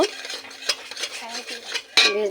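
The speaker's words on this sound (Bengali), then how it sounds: "এর মধ্যে দিয়ে দিয়েছি দুটো ডিম, আর দিয়ে দেবো হালকা একটু লবণ। এবার এটাকে ঝুরঝুরি করে ভেজে নেব" Two eggs with a light pinch of salt are being stirred into a crumbly scramble in a pan. A utensil scrapes and clinks against the metal in quick, uneven strokes, close and fairly loud, with a sharper clatter near the end.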